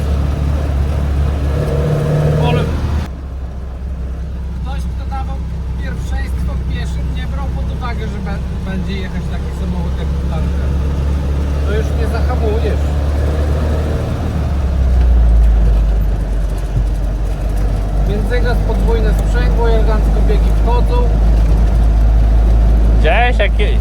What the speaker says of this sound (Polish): Ale ładny silniczek reaguje na gaz.